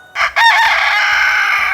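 Backyard chickens with a rooster crowing loudly and close by in one long, drawn-out call after a brief lead-in note, with a low rhythmic rumble beneath.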